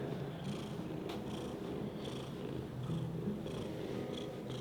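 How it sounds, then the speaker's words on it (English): A cat purrs steadily and close by, a soft continuous rumble running throughout with no talking. "You hear him purring?"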